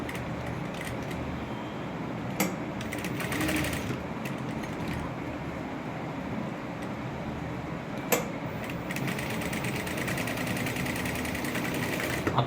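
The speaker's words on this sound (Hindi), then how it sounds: "जहाँ बुकरम का किनारा है उसके नीचे नीचे स्टिच करनी है।" Domestic sewing machine stitching a shirt collar just below the edge of the buckram interlining, steady mechanical whirring across the whole span with a few brief clicks and pauses, close and fairly quiet, no talking.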